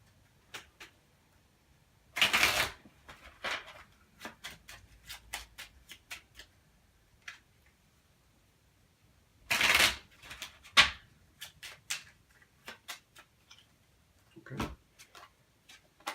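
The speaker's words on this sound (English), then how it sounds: "shuffle these up." Ticket to Ride board game cards being shuffled by hand, two dense riffle bursts amid scattered light clicks and taps of cards on a table, close and fairly quiet.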